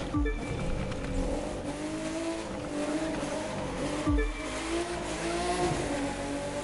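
Racing car in The Crew 2 on a Los Angeles city circuit, a loud continuous engine roar with shifting revs and brief tire squeals through corners, no talking.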